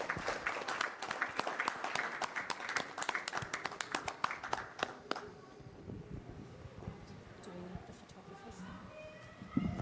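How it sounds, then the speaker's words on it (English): A conference audience at a founders' event in Dubai applauds a panel, a dense burst of clapping for about five seconds that fades out as a voice begins talking. "If you could give them a big round of applause,"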